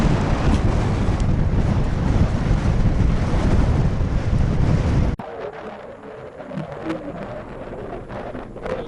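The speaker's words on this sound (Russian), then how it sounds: "Такое ветрище." Strong sandstorm wind roars and buffets the microphone in a loud continuous blast for about five seconds, then abruptly drops to a quieter, gusty rush.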